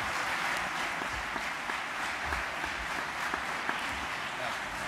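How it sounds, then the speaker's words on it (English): Sustained applause from a panel-discussion audience, steady dense clapping throughout at moderate distance, no voices over it. "Please, a round of applause for all our panelists."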